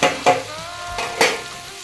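Heated spice mix stirred into tomatoes frying for a karimeen curry: two or three sharp scrapes of a spoon against the pan over a low, steady sizzle, close and fairly loud, with no talking.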